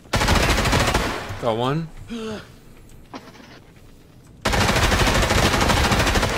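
Rapid automatic gunfire from Escape From Tarkov comes in two loud sustained bursts, one at the start and one at the end. A player speaks briefly between the bursts.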